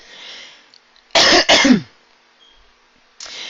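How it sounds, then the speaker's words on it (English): Two short, harsh throat-clearing bursts come back to back in a quiet room, followed by silence and a faint breath. "Let me clear my throat again."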